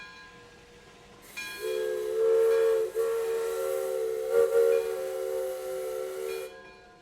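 A loud steam whistle blows steadily for several seconds with a hissing, rumbling background of a nearby steam train, as display engines move at the Roaring Camp Railroads Steamfest.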